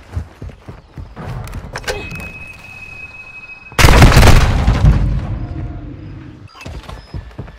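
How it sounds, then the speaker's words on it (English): A demolition charge detonates in the Modern Warfare 2 video game: after scattered thumps and a thin electronic tone, a sudden loud boom bursts out and rumbles away over a few seconds, followed by more faint clatter. "Set a charge on the target and detonate it."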